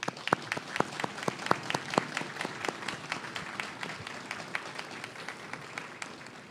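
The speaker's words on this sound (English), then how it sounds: "Please join me in giving them a warm round of applause." Audience applause at a military change of command ceremony for US Forces Korea, scattered distinct claps over a soft bed of clapping, moderately distant and steady.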